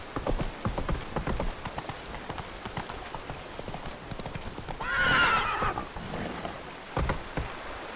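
Geralt's horse Roach in The Witcher 3 trots with steady, close clip-clop hoofbeats, then lets out a loud, drawn-out whinny midway before the hooves carry on.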